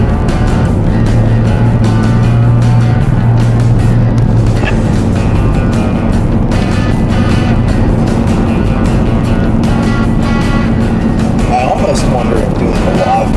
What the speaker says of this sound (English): I know the road noise is coming in over everything else.